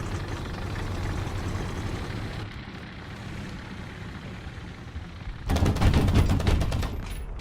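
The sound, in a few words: Italian autocannon fire in War Thunder video game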